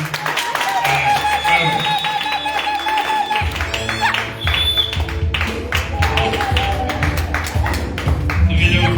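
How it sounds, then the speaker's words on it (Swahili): A church congregation clapping hands during a sermon, scattered sharp claps building into irregular rhythmic clapping, mixed with a preacher's voice and background music. "Unapiga makofi."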